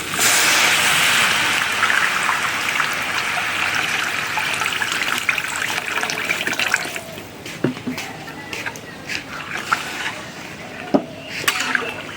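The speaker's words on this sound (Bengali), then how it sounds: "এখন পানি দিয়ে দেবো" Water is poured into a cooking pot of fried rice and jackfruit seeds for khichuri. A steady splashing stream runs for several seconds, then tapers into scattered drips and small clinks.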